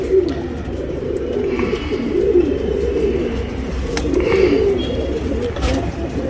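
Tournament pigeons cooing close by in a loft in Bangalore, India, a steady low throaty warble rising and falling throughout, with faint traffic in the background.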